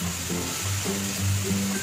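Spices for a tadka for Indian dal sizzle close up in hot ghee over a gas flame, a continuous bright hiss with a faint low hum underneath.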